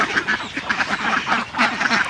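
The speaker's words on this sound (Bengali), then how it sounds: "এখন আমরা খেতে দিব হাঁসগুলোকে" Ducks on a duck farm quack in a dense, overlapping chorus at feeding time, loud and close with rapid repeated calls and no talk.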